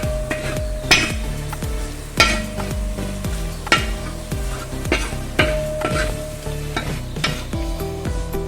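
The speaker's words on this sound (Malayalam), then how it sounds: "നല്ലവണ്ണം ഒന്ന് മിക്സ് ചെയ്യാം മഞ്ഞപ്പൊടി ഒന്ന് ശരിക്കും മൂത്ത് വരണം" Turmeric powder is stirred in a sizzling pan for Kerala-style kappa biriyani, with a spoon scraping the metal in a steady rhythm of about one stroke per second over constant close frying hiss.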